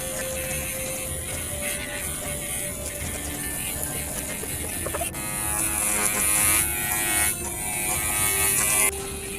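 An electric trimmer flat-trims the pile of a hand-tufted rug made with Kenyan yarn, giving a steady close buzz whose pitch shifts as the blade moves, then growing louder and harsher partway through as it bites into the tufts.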